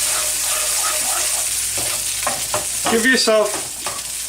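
Baby bok choy and ginger sizzle steadily in a hot pan while being stirred, with scraping and tossing sounds rising toward the end and a brief voice speaking.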